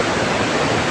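Waterfall at Curug Sekar Langit pouring into a pool, a dense, steady broadband rush of water with no other sounds.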